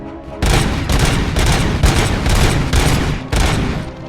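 Loud, repeated bursts of gunfire in the Robocop Rogue City video game come in heavy volleys, one after another, with brief gaps between the blasts and no voices.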